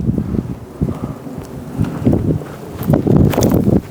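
Winter wind buffets the microphone on a disc golf course in gusty, low rumbling bursts, with some rustling and footstep-like movement close by.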